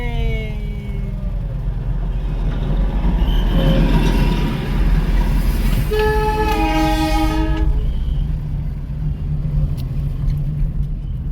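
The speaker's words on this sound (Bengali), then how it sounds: "টয় ট্রেন আসছে।" The Darjeeling toy train passes in Kurseong town, its rumbling wheels and engine steady and close under traffic noise, with a series of loud, wavering horn blasts in the middle.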